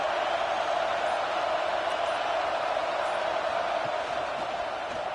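A stadium crowd in the College Football 26 video game, with USC at Michigan State on a third-down red zone play, roars as a steady, loud broadband wash throughout under light commentary.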